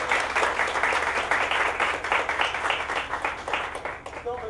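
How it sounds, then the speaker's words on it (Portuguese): Applause greets a guest lecturer at a university talk, a crowd clapping briskly in uneven bursts for about four seconds before a voice starts speaking as it fades. "Uma salva de palmas para Maurício."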